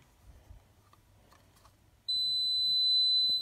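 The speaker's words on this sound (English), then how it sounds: "I've got another sounder here." An addressable fire alarm sounder sets off a loud, steady high-pitched electronic tone partway in, sustained without a break after a quiet stretch of faint room noise.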